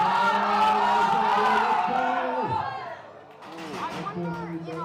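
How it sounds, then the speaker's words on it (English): Powerlifting meet crowd cheering and rumbling during a lift, a loud, sustained roar of many voices with whoops and shouts that dips briefly and then swells again. "I want to hear everyone rumble in the crowd."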